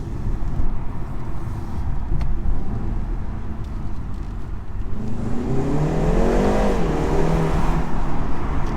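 A BMW 330i Touring's 2-litre four-cylinder engine idles with a gruff, steady drone, then revs up and back down around the middle, the pitch rising and falling in a smooth sweep.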